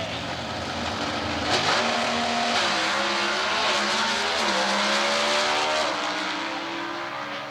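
An H altered drag racing car makes a time run at a 1992 NHRA Division 2 competition eliminator event in Atlanta, its loud sustained engine roar shifting pitch steadily as it accelerates down the strip.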